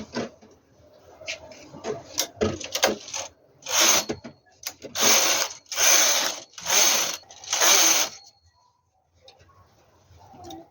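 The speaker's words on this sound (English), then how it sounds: "push my carriage to work and change back to tension 8, then decrease 2 needles and knit 5 rows right now" A domestic knitting machine carriage pushed across the needle bed, knitting rows of a V-neck sweater: several loud rasping, clattering sweeps in steady succession, each about a second long, close to the microphone with no talk.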